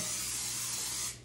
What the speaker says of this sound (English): I give it a quick spritz.